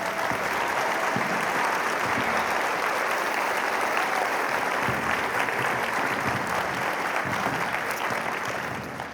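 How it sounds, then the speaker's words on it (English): An audience at an all-county school band event gives band students a long round of applause, a dense, continuous wash of clapping that stays loud for about nine seconds before easing slightly at the end. "So if you could give them a round of applause."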